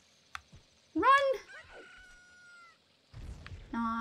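A chicken in the video game The Legend of Zelda: Ocarina of Time lets out a loud, squawking cluck-call with rising warbles, followed after a pause by a second short cluck over a low rumble.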